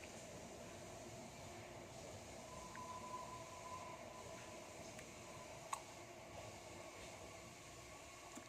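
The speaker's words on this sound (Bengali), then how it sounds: "রেল আসছে," A double-decker train pulls into a Swiss railway station with a steady, loud rumble and rush of rolling wagons that persists throughout, broken by one brief sharp click near the end.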